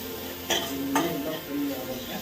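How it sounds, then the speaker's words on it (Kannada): Onions for a dhaba-style palak gravy fry in a pan, giving a soft, faint sizzle, with a couple of brief scraping stirs of a spoon against the pan in the middle. "ಈರುಳ್ಳಿ ಒಂಚೂರು ಫ್ರೈ ಆಗ್ಬೇಕು"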